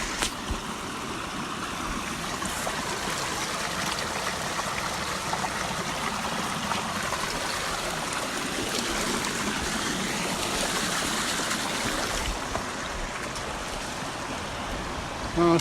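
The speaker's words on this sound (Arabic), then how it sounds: "صوت المويه" Steady rushing water of a stream flowing through natural scenery in southern Saudi Arabia, continuous and fairly close, with no voices.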